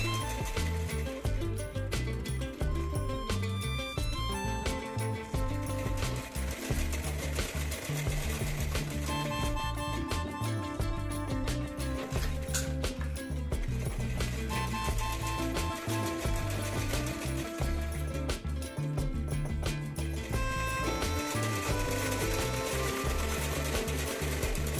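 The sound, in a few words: sewing machine stitching dress neckline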